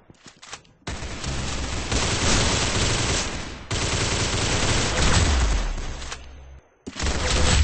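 Gunfire in the video game Arsenal: loud, dense bursts of rapid automatic shots running for several seconds, broken by short gaps of near silence.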